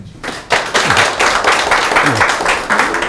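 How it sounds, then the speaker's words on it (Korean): Audience applause at a forum lecture on asset management breaks out after a brief quiet start and carries on in uneven bursts, fairly close and loud, with a voice faintly audible underneath. "박수 한번 주세요."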